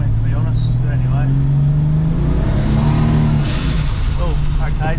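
Turbocharged car engine running at 13 psi boost on pro street radials, a steady low drone building slightly while driving, with a person talking over it throughout.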